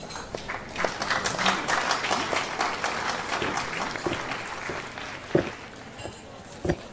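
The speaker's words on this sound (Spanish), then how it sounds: "recibamos a nuestro poeta con un fuerte aplauso" An audience at a poetry event claps to welcome a poet to the stage, a dense burst of applause that thins toward the end, with a few louder isolated thumps and some voices mixed in.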